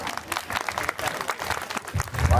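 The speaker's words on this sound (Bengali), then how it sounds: "সবার এই পরিশ্রম সার্থক হয়েছে আপনাদের এই করতালিতে" An audience claps after a student performance of a Tagore dance drama, a brief burst of scattered hand claps from a crowd at a moderate distance.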